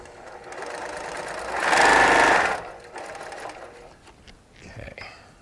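Sewing machine stitching through a quilt, a brief burst of rapid mechanical stitching that swells for about a second, then stops, leaving light handling clatter.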